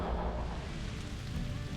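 Steady rain falls hard and close with a deep low rumble of thunder underneath, a continuous wash of noise with no voices, on a wet night of camping.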